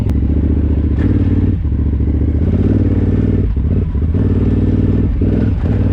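A KTM 990R dual sport motorcycle rides continuously at close range, its engine droning loud and steady with rhythmic pulsing, brief dips as the throttle eases and occasional clatter and thumps from the road.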